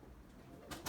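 A racing pigeon that has been frightened by a hawk gives a faint, brief coo, quiet and distant against a soft background.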